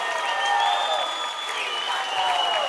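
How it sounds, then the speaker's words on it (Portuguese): Steady applause from the audience at a live sertanejo concert recording in 2005, a dense continuous clatter of clapping with sustained musical tones ringing underneath throughout. "Um aplauso de vocês"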